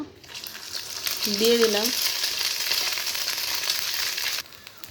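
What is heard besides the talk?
egg balls frying in a little oil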